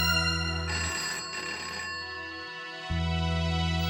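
A steady electronic telephone ringing tone plays, broken briefly by a short buzzing burst before the tone resumes.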